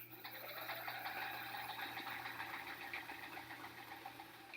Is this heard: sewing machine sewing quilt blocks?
yes